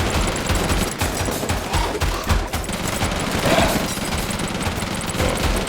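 Minigun fire in the video game Deadly Days Roadtrip, a dense, continuous stream of rapid shots with overlapping game effects, loud and steady throughout.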